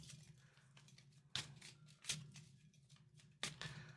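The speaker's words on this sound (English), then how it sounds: "I always shuffle until I get a tingly sensation in my solar plexus." A tarot card deck shuffled by hand, heard as soft, close papery riffles and three crisp snapping bursts over a quiet room hiss, without speech.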